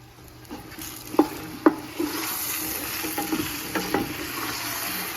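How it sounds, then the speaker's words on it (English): Vegetables with garlic and thyme cook down in a pot, giving a soft, steady sizzle. A few sharp clinks and scrapes from stirring come through clearly over it. "I'm gonna let that go for a couple of minutes just to kind of get those vegetables a little bit tender."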